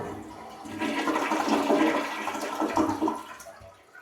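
A hotel bathroom toilet flushes nearby, a rushing swirl of water rising, holding, then draining away and fading near the end.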